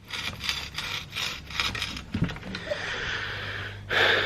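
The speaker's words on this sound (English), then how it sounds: "the headset is bearings in here and here. And they sound crispy when this is turned." Repeated gritty, rasping grinding close by, coming in rough strokes as a bicycle headset with failed bearings is turned back and forth, with no voices.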